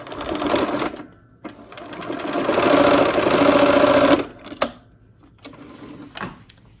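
A sewing machine runs in steady bursts while stitching pieces of a quilt triangle, a loud close whir rising and stopping, then shorter separate runs.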